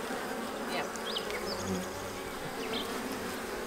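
Iberian honeybees buzz in a busy, continuous drone, with individual insects whining past now and then, fairly close.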